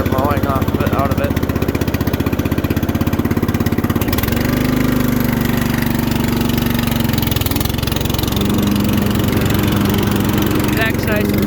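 A Yard Machine riding lawn mower engine runs close up, a steady mid-pitched throbbing drone that shifts tone as it revs up and settles, loud and continuous throughout.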